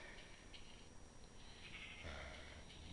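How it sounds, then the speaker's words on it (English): Sheep bleating in the video game Minecraft, a faint wavering bleat or two over a steady noisy background, heard without talking. "Not you, sheep, you can go away."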